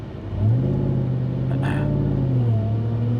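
A highly modified Ram TRX pickup with a Whipple supercharger cruises at low throttle, a deep steady exhaust rumble with a rising engine note and a faint brief whine, close and continuous.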